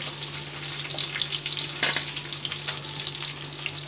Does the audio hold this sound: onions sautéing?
yes